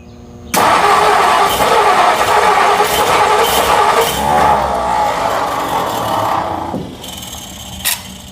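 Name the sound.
1957 Ford Thunderbird engine starting and revving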